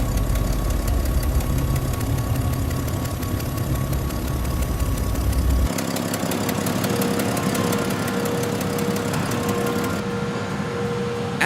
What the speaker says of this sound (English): Later, these transporter trucks left for the factory.